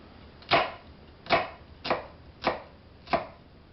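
Five crisp knife chops through an onion on a cutting board, each a sharp close thud-and-slice about half a second to a second apart, alone with no voice.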